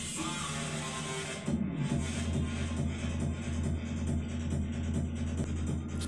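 Music from a Zinq Technologies MELOS 2.1 woofer speaker system playing in another room behind a closed door, a muffled, bass-heavy steady sound at moderate level with no clear talking.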